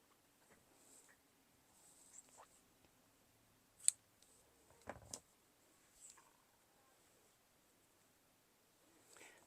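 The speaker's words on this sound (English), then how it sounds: "I'm going to cut these tails off" Scissors snipping the thread tails after a knot while sewing a fabric iPad case: a few quiet, separate clicks and snips, the loudest two close together, over faint rustling in a hushed room.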